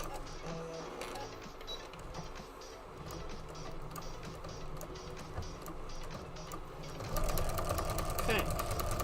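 A sewing machine stitches in steady rapid bursts, close by and moderately loud, speeding up toward the end, during a live quilting session.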